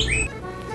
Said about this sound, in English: That's my little bird in the clock.